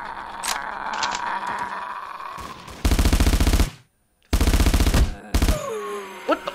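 A video game gun firing in long, rapid automatic bursts, loud and close, with three sustained strings of shots separated by short gaps and a sudden silence, after earlier scattered clanks and a faint voice.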